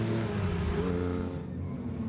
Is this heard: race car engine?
yes